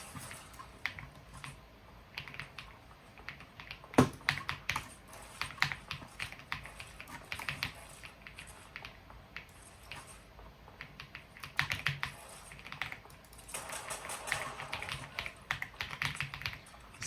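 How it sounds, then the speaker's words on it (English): Fingers type quickly on a mechanical computer keyboard up close, producing irregular bursts of crisp clicky keystrokes with brief pauses and one sharper tap, fairly quiet overall. "This keyboard sounds amazing though."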